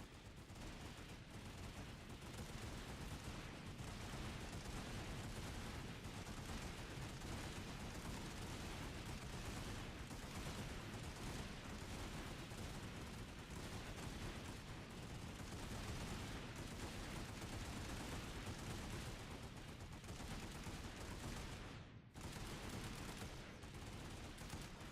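Infantry rifles and machine guns laying down sustained suppressive fire during a company live-fire exercise, a continuous dense roar of overlapping shots, loud and unbroken, with one brief dip near the end.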